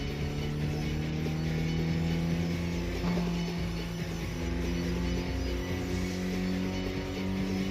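A car engine racing in the Tokyo Xtreme Racer street-racing video game, a steady loud drone with sustained harmonic tones that rise and fall slightly as the revs shift, with no talking.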